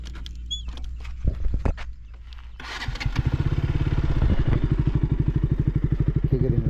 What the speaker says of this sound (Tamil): பைக்கோட எக்ஸாஸ்ட் சவுண்டு கேட்குறீங்கள